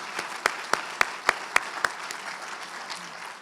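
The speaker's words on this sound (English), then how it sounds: "the Balboa Bay Resort deserves another round of applause for dinner tonight" A dinner crowd at a Citizen of the Year and Business Person of the Year celebration claps for the Balboa Bay Resort, a steady wash of applause with several sharp, louder claps standing out near the start before it thins and fades.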